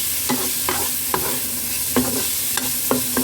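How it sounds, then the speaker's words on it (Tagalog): Carrots are stirred in a sizzling frying pan, with a spatula scraping in several distinct close strokes over a steady hiss of frying, and no one talking. "Haluin ulit natin ng konti."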